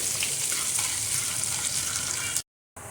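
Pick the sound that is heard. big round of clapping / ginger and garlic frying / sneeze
ginger and garlic frying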